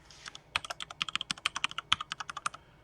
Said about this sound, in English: I'm going to type sudo apt update